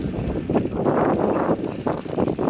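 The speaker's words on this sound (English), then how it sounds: "Oh, it got windy." Strong wind roars steadily across the microphone in gusty, rumbling bursts, loud and close throughout with no other sounds standing out.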